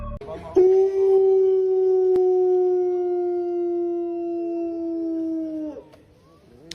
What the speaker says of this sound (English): It's a damn wolf.